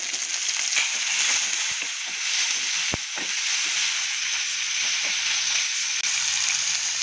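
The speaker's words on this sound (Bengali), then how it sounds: "এখন শুটকিগুলো দিয়ে দিচ্ছি তেলের মধ্যে এটাকেও ফ্রাই করে নেব" Dried lottia fish (shutki) frying in hot oil with green chillies, a loud, continuous close-up sizzle with a few faint knocks and clicks, no voices.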